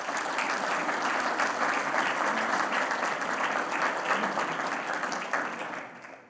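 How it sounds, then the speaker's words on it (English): An audience at a healthcare conference event applauds, a full, sustained wash of many hands clapping alone that tapers off over the final second. "So give yourselves a big round of applause."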